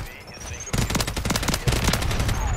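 Automatic gunfire in Call of Duty: Modern Warfare 3 multiplayer, rapid bursts of rattling shots firing in quick succession, loud and close, continuing steadily after a short quiet start.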